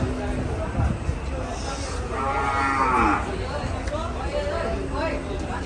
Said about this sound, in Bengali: জায়েন্ট গরু, জায়েন্ট।